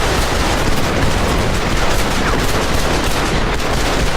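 Dense, continuous gunfire from a video game gang showdown, rapid overlapping shots and bursts filling the whole stretch at a loud, steady level with no talk.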